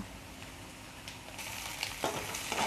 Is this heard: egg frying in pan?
yes